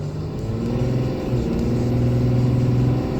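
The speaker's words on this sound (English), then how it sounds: "But now I'll roll on the throttle." A Ram 3500 pickup with a Cummins diesel engine accelerates under throttle, a steady low droning engine note that rises slightly in pitch, heard from inside without talk.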